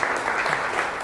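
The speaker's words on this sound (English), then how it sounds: "Can we give them a quick round of applause for their thoughts?" A business lunch-and-learn audience applauds panelists, with dense, steady clapping filling the whole short moment.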